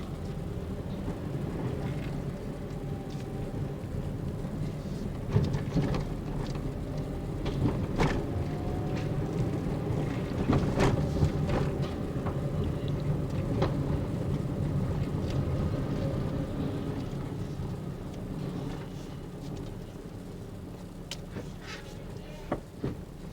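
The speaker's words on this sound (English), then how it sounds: "Has a high idle for some reason." A Nissan Pulsar N15 with a GA14DE engine runs at a steady high idle after sitting unused for ten years, a continuous low drone and hum that holds level throughout, with a few faint clicks and knocks over it.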